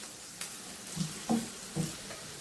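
Onions and curry leaves fry in a pan for mushroom kuzhambu, giving a steady close sizzle broken by a few soft stirring knocks, with no talking.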